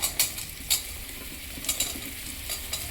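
Whole small button mushrooms drop into hot oil with onion-ginger paste, raising a steady loud sizzle and frying crackle, punctuated by a few sharp clinks of a spoon stirring in the pan.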